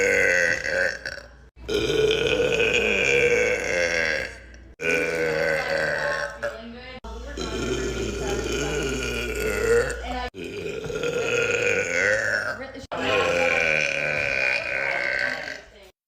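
Girls burping loudly, a string of long, drawn-out belches one after another with brief pauses between them, close and alone.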